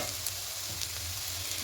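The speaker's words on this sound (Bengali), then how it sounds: "ঢাকা চাপা দিয়ে সবজিটাকে ভাজবো" Bitter gourd and potato pieces sizzle steadily in oil in a pan, a close, continuous frying hiss with faint stirring scrapes.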